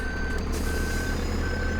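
In Farming Simulator 2013, a truck backs up with a steady, evenly spaced reversing beep sounding over a constant loud engine drone, with no voices.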